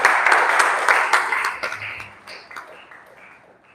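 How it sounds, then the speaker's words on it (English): Audience clapping at a live academy event, a burst of applause that is loud at first and then thins into scattered claps that fade away over a few seconds. "Let's clap for her again."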